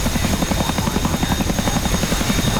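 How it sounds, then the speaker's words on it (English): A Chinook helicopter in a military video game thunders close and loud with steady rotor chop, heard alone for a few seconds. "Our Chinook looks cooler than theirs."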